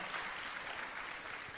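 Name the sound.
congregation applauding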